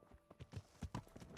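Quiet clip-clop of horse hooves in the game Kingdom Come: Deliverance, a handful of soft, uneven hoofbeats approaching over about a second and a half.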